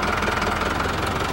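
A tractor-driven irrigation water pump on a Jamaican rice farm runs steadily, its engine giving a loud, continuous rumbling drone with a faint knocking pulse and no pauses.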